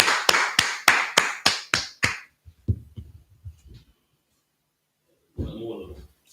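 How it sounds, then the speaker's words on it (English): A class claps in unison for a speaker: about eight sharp, evenly spaced claps in a quick rhythm, then a few soft taps. A voice begins talking after a pause. "Give Officer a clap with your hands."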